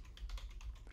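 Rapid keystrokes on a computer keyboard while entering a Windows command, a quick close burst of several clicky taps over steady low background hum.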